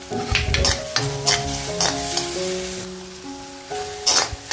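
Red chili powder frying in a pan with softened onion and tomato for a dried fish gravy, a soft sizzle with occasional stirring scrapes under steady background music.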